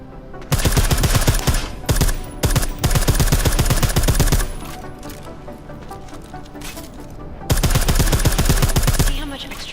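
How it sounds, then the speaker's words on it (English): Silenced gunfire at a shooting range in Deus Ex: Mankind Divided: long, loud rapid-fire bursts of dense, evenly spaced suppressed shots, broken by a quieter pause before a final sustained burst. "I like how silencers reduce sound, but the trade-off is less stopping power,"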